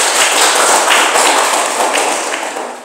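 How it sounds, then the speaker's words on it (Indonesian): A school class applauds together in a classroom, a dense, continuous wash of many hands clapping at once, loud and close, holding steady for about three seconds before easing slightly. "Tepuk tangan untuk kita semua."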